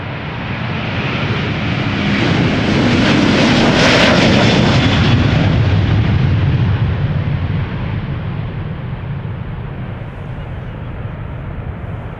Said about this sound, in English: This is Delta Airlines flight 37 going to Orlando,